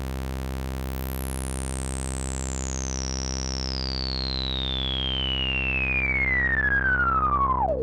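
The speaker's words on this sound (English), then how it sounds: "You can hear that's a super smooth, lovely filter." Cre8audio East Beast synthesizer playing a sustained sawtooth tone through a smooth filter, swept slowly from bright to dull until only a muffled buzz remains, heard alone and steady throughout.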